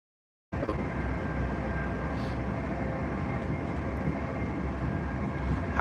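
Steady interior rumble of a moving passenger train with onboard Wi-Fi, approaching Tamworth on the way to London, a continuous even drone filling the carriage without talk.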